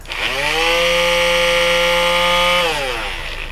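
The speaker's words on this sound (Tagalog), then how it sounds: "Ito yung palm sander kung tawagin." A handheld electric palm sander runs steadily for a few seconds, a loud, even motor whine with a buzzing vibration that starts abruptly and winds down at the end, alone without talk.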